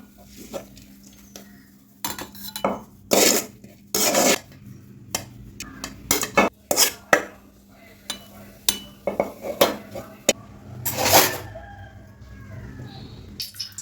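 Cooked spinach is scraped out of a pan into a bowl with a ladle, giving a series of sharp close metallic scrapes and knocks, with a rooster crowing faintly in the background.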